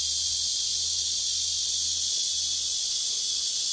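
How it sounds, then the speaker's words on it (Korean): A chorus of cicadas in a countryside forest makes a loud, continuous high-pitched buzzing drone that holds steady and unbroken throughout, with a faint low hum underneath. "와, 마지막 매미들의 합창."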